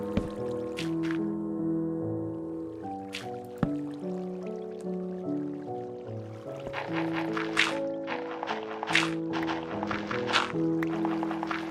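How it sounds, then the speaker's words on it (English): Water trickles and drips in the blocky world of Minecraft Alpha 1.2.6, a soft liquid gurgle running beneath steady musical tones, with occasional brighter splashes and clicks scattered through. "I am morbidly curious because I hear water, but I don't see any of it."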